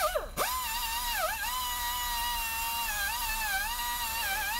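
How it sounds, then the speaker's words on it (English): A high-pitched die grinder whines steadily as it removes grime from a brake caliper, its pitch dipping briefly under load, then holding a constant shrill spin. "The die grinder does shift it a lot quicker than a drill"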